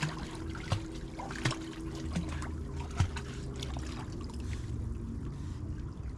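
A dog named Lassie splashing in water while wild camping, soft irregular splashes and trickling with a few sharper slaps, fairly quiet and close.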